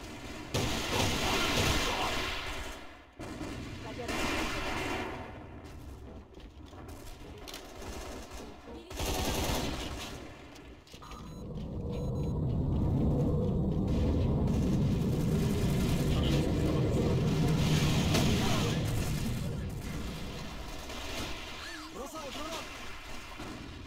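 Rapid bursts of gunfire and a blast from a thrown grenade in a FURY escort quick match, loud and dense with brief gaps, then a sustained roaring stretch of firing.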